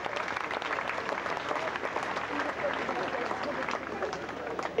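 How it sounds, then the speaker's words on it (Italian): A cabaret audience at a seaside summer show gives polite, lukewarm applause on cue, a steady even patter of many hands clapping throughout without swelling or cheering. "Un applauso di cortesia, quelli freddi da congresso che si fanno per forza."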